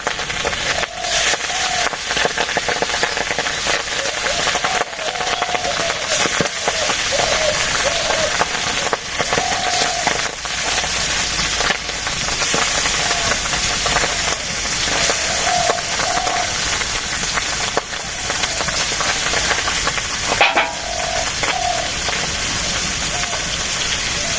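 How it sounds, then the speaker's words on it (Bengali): Pabda fish fries in hot oil in a pan at a rural village kitchen, making a steady, dense sizzle and crackle that lasts throughout. It is close and loud, with faint speech at times. "তেলও গরম হয়ে গেছে মাছ আস্তে আস্তে ভেজে নেই"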